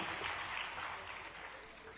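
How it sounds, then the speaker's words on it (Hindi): Audience applause at an International Biodiversity Day event at the Indian Institute of Forest Management, Bhopal: dense, continuous clapping from a large crowd, easing slightly toward the end. "एक बार जोरदार तालियां अपने अभिनंदन स्वागत में भी देवियों सज्जनों।"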